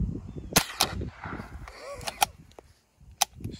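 A cheap plastic toy gun fires a series of sharp, snappy cracks in irregular single shots. People talk and murmur close by between the shots.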